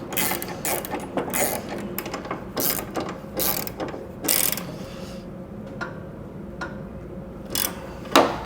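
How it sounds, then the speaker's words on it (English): A ratchet tightens 9/16 bolts on a stretched CVO motorcycle rear end kit, giving rapid, close clicking pawl sounds in uneven bursts with short pauses between strokes. "now we're tightening up your 9/16."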